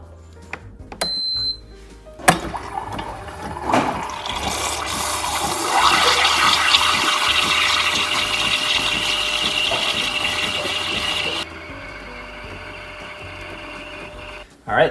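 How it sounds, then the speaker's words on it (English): A Ninja Luxe Cafe espresso machine froths plant-based milk with a loud, steady hissing whir that holds for about seven seconds before cutting off, preceded by a few clicks and handling knocks. "then we'll hit start froth"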